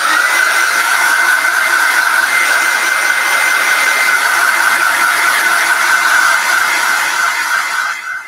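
Hair dryer drying wet paint on a Christmas bauble, running nearby without a break. A steady, loud whooshing hiss with a constant whine lasts several seconds, then cuts off at the end.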